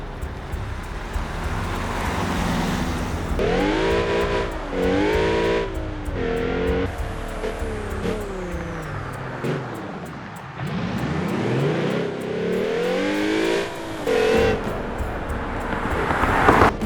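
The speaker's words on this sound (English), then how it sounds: "John took his dad's Ford GT 2005 for a drive" The engine of a 2005 Ford GT in BeamNG Drive revs up and down through gear changes, with rising and falling tones, loud and close, alongside road and wind noise.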